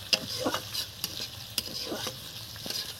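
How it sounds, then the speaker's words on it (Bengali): Chilli chicken ingredients lightly frying in a pan, a soft steady sizzle broken by scraping stir strokes of a spatula, close and alone. "হালকা ভাজতে হবে এগুলো, বেশি ভাজা যাবে না"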